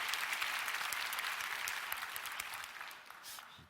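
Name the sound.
audience applause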